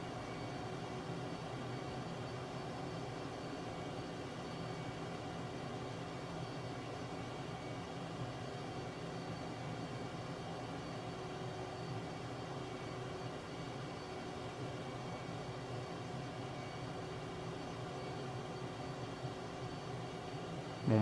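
A fixed-wing aircraft engine in Microsoft Flight Simulator 2024 drones steadily with the throttle pulled all the way down, a constant, even hum that stays unchanged for the whole stretch, with no voices.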